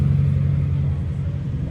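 A Lamborghini Murcielago LP 640 supercar rolls past on a city street in Yorkville, Toronto, its deep engine rumble strong and close, then easing slightly as it moves away.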